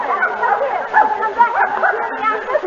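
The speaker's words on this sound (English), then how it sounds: "Madam, you can't bring that dog in here." A dog barks and yips in a 1930s radio drama, the sounds busy and midrange, mixed with chattering voices throughout.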